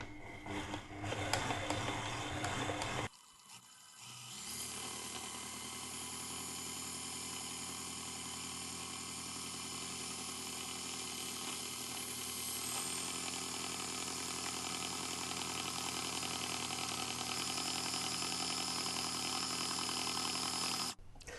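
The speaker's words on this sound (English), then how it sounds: "So I have my little dough hook. That goes on. That goes down. And then we just need to mix it." Stand mixer with a dough hook kneading a very wet ciabatta dough, a steady whirring motor hum after a brief louder burst and short drop, running on evenly and close.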